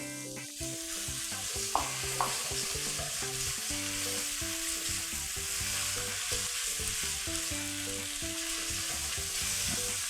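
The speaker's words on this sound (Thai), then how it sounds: "กุ้งกับปลาหมึกเราก็สุกประมาณนึงนะครับก็ใส่เส้นลงไปเลย" Rice noodles with shrimp and squid are stir-fried in a hot pan for Thai seafood noodles, a loud, steady sizzle with a spatula scraping and tossing in an even rhythm throughout.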